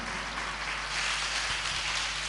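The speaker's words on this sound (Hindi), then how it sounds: "एक बार जोरदार तालियां बजाइए पहले" Audience at a Jain religious sermon (mangal pravachan) applauding loudly, a dense, steady wash of clapping that fills the whole stretch with a low hum beneath.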